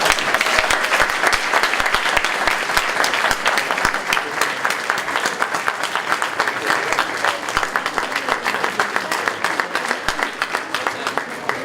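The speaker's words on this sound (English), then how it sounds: "let's give them a round of applause" A room full of people at a civic engagement awards program clapping steadily, a dense, loud, sustained burst of many individual claps that stays even for about twelve seconds without pausing.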